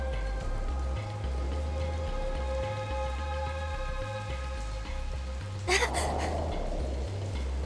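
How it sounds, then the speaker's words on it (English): Rain falls steadily in a video game scene, a soft continuous patter under a low tonal music drone, with a brief louder burst near the end. "Just started raining over here."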